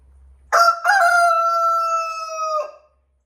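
A barred rock rooster gives one long, loud crow close by. Nothing else is heard, and the call cuts off cleanly.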